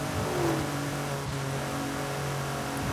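A car engine in Forza Horizon 5 revs high and steady, holding a droning whine with a brief dip partway through, fairly close and with no voices.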